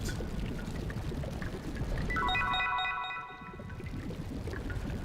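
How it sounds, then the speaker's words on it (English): In a sewer area of the video game Xenogears, water pours steadily from pipes, a constant rushing splash with a brief shimmering chime of game effects layered over it midway. "we got these, I don't know what they are, pipes of water or something"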